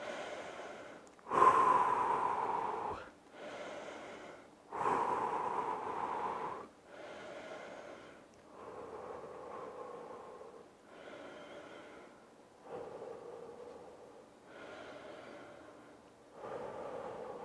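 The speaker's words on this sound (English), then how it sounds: "We're gonna catch our breath" Heavy, rhythmic breathing after a home fat-loss workout set, with about ten loud inhale-exhale cycles close to the mic, gradually slowing and softening, with no talking.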